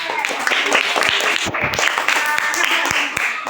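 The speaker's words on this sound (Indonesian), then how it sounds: "Sekarang tepuk tangan untuk kelompok anggrek." Classmates clap for a student group in a classroom, a brief scattered round of hand claps mixed with children's chatter and voices throughout.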